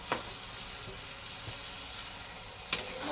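Mashed brinjal for baingan bharta fries on full flame, a low steady sizzle with a few sharp knocks of a spoon against the pan.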